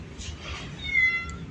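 A street cat in Malaysia gives a short, close meow with a rising, drawn-out tone. It may be a person imitating a cat rather than the animal itself.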